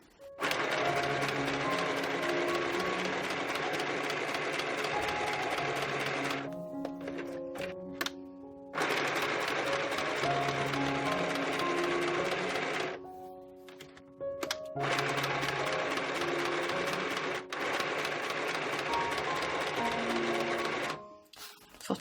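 A sewing machine runs a running stitch around the edge of a junk journal made from old book pages, fast rhythmic whirring bursts broken by short pauses and clunks as the fabric is turned, close and clear.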